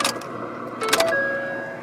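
A 2011 Ford F-150 with a stretched timing chain has its ignition key turned on to prime fuel before starting: a soft electric hum with a few short tonal chimes and clicks, close by, with no engine running.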